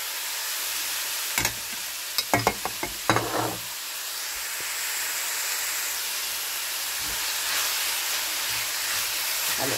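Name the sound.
stirring vegetables, rice, parsley and mint in a pot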